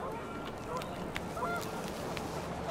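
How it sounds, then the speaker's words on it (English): Panicked geese in the video game What Remains of Edith Finch honk and squawk in a scattered flurry of calls over gusting wind noise, fairly faint and continuous. "The wind picked up and panicked geese appeared and quickly went."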